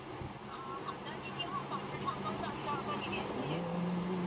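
A white Porsche driving hard through city streets on a chase, heard from inside as a steady engine and road drone with a rising engine tone near the end, under a voice talking.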